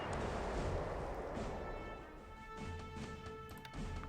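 Torpedo attacks exploding in the War in the Pacific strategy game: a heavy, rumbling blast that fades slowly, followed by fainter crackling reports and lingering distant booms, with no talking.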